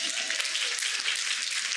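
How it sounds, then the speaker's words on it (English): Audience applause on a cannabis talk show hosted by Montel Williams, a continuous bright hiss of many hands clapping that stays steady and fairly loud throughout. "give her a big round of applause"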